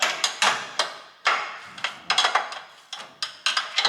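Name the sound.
tightening motor mounting bolts on ATV mower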